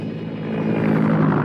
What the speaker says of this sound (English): A helicopter from the naval training station.